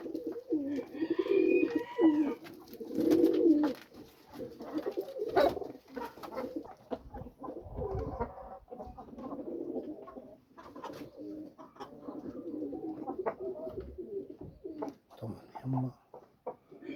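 Pigeons at a home coop cooing in soft, repeated throaty calls, with a few other bird chirps and scattered knocks and movement nearby, fairly quiet and close.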